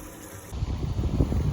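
A washing machine starts filling with water for a wash cycle, a sudden low rushing gush that begins partway through and continues steadily, close by, with no talking.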